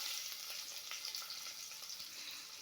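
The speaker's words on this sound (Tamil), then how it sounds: "வெங்காயம் போட்டுக்கலாம்." Onion fries in oil alongside cumin and fenugreek, giving a soft, steady sizzle with faint crackles, heard close and on its own.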